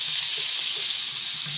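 Garlic fries in a pan for fried rice, giving a steady bright sizzle close up, with a few soft clinks of stirring.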